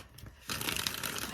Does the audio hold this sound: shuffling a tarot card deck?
yes